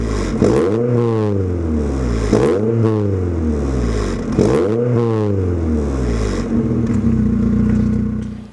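An MG ZR 160 fitted with a loud aftermarket exhaust revs hard three times in succession, each rise and fall close and dominant, then settles into a steady raised idle.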